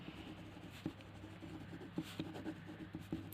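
A pen scratches faintly across a geometry worksheet as triangle labels are written out by hand, with soft strokes and small taps against a steady low hum.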